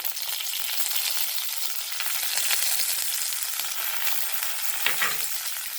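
Dried chilies and curry leaves sizzle in hot oil for a South Indian chutney tempering, a steady bright crackling hiss with a few sharper pops, close and loud throughout, with no talking.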